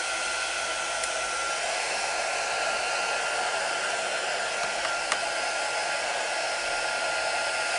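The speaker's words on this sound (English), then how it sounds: "get our heat gun heated up" A heat gun runs for embossing at a craft table, giving a steady, even blowing roar throughout with no talking.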